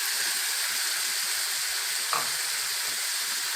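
Chicken sizzles steadily in a pan with onion, crushed garlic and green pepper, a close continuous frying hiss with a brief stir partway through.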